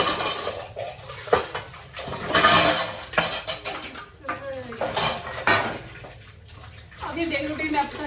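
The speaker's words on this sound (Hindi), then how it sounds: "बर्तन धो लेते हैं" Dishes are washed in a home kitchen sink. Pots, plates and cutlery clatter and clink irregularly under running water, close by and fairly loud throughout.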